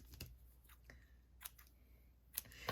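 Scissors snip ribbon bow ends on a handmade card, making a few quiet, close clicks and cuts spaced irregularly against near silence.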